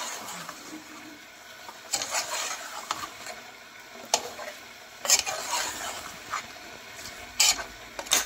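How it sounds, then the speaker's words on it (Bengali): Chicken and new potatoes sizzle steadily in a pan as they are stirred and sautéed together, with repeated scraping strokes of a spoon rising over the continuous frying hiss. "মাংস সাথে আলু দিয়ে ভালো করে কষিয়ে নিচ্ছি আমি।"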